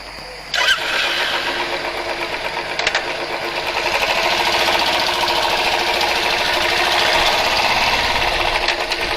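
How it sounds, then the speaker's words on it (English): A Royal Enfield Classic 350 motorcycle starts with a sharp crank and settles into a loud, rhythmic single-cylinder thump that rises slightly as the bike pulls away, heard up close without talk. "So let's go for a quick spin and let's see how the bike behaves on the road."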